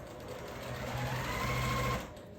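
A sewing machine stitches through a quilt with a close, steady motorized whir that rises and holds for about a second, then stops, backed by a faint low hum.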